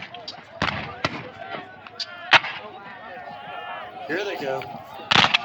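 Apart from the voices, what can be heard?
Civil War reenactment cannon firing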